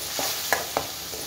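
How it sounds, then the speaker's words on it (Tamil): Onions and cashews sauté in a pan over a medium flame, with a soft sizzle under a few quick spatula scrapes in a short burst. "கொஞ்சம் மீடியம் ஃப்ளேம்லேயே வச்சு வதக்குவோம்."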